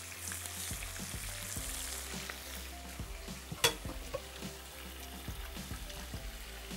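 Chicken fries in oil with garlic tempering, a soft constant sizzle broken by the scrape and clink of a spoon stirring the pan, with one sharper clatter.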